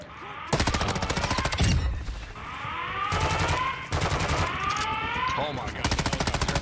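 Rapid bursts of automatic gunfire from the DMZ video game crackle loudly in repeated volleys under excited player voices and game effects, with brief pauses between strings of shots.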